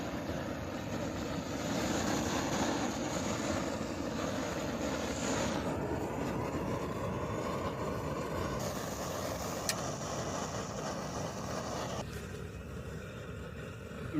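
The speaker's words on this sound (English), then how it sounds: "The wind is picking up." Steady wind roars across an open roadside camp beside a busy highway, a broad continuous rush with passing traffic noise blended underneath, holding constant throughout with no talking.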